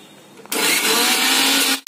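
An electric mixer grinder whirs loudly as it grinds onion for drumstick leaf kuzhambu, starting abruptly and running steadily for over a second before cutting off.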